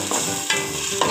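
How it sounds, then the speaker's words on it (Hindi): Onions frying in oil in a cooking pot, stirred in quick scrapes over a steady close sizzle, with no voices. "पतीली में मैंने तेल डाल दिया दो चमचे और मैं इसमें प्याज डाल दूंगी। प्याज को मैं अच्छे से ब्राउन कर लूंगी।"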